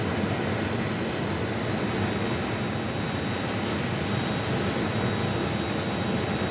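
Boeing 737 MAX 8 airliner arriving at Phoenix Sky Harbor airport, a steady broadband engine roar that holds evenly and fairly loud the whole time, with no talk over it.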